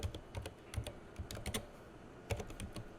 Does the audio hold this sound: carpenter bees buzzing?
no